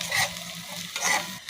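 Curry cooking on an electric stove, with a soft sizzle and two scraping stirs of a spoon against the pan, close and fairly quiet, no voices.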